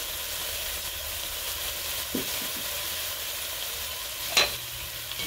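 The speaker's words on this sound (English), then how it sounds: "Start stirring that around." Ground meat and onions with Worcestershire sauce sizzling in a pan for cheeseburger mac and cheese, a continuous bright frying hiss with a few soft stirring knocks and one sharper scrape near the end.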